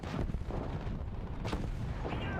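Artillery fire in War Thunder, a dense, sustained barrage of low rumbling booms with sharper cracks near the middle, loud and continuous with no pauses.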